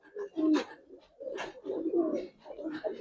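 Giribaz and coloured pigeons coo close by in a run of low, throaty calls, broken by sharper bursts, with a voice that seems to mix in at times.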